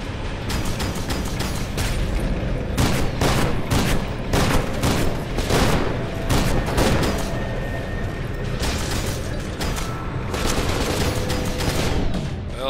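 Video game gunfire from FEAR 2 crackles in dense, continuous volleys of sharp shots and booms, loud and close throughout with no speech over it.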